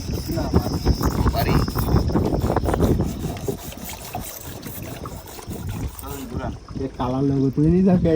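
A small wooden dinghy on a wide Sundarbans river, loaded with crabs and fish, gives off a continuous wash of water and hull sounds close by, with a voice talking over it near the end.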